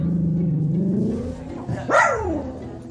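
Tilly the dog lets out one short bark from the sofa after a low, rumbling growl. The bark is close and brief, with no talk over it.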